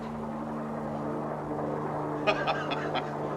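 A helicopter flies overhead with a steady, low droning hum that persists under faint background sound, then is joined near the end by a few brief, higher-pitched bursts.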